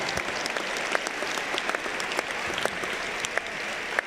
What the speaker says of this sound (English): how about a round of applause for an outstanding game between two incredible teams?